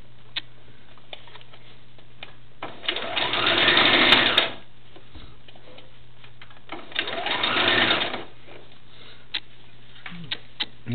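A sewing machine stitching a doll's leg on over pins runs in two sustained bursts of rapid, even whirring, each a couple of seconds long, with a faint steady hum and scattered small ticks and clicks between them.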